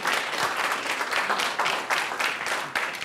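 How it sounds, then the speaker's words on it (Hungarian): An open mic crowd applauds a performer, full steady clapping from many hands with slight surges, close and lively throughout. "Nagy tapsot neki is."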